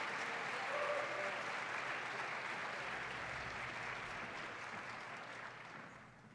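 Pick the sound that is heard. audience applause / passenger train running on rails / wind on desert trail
audience applause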